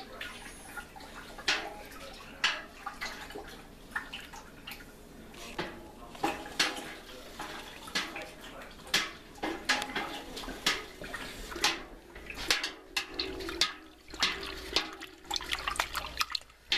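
Homemade honey mead is stirred in a container, giving close, irregular sloshing and liquid swirls with scattered knocks and scrapes against the vessel, no talking.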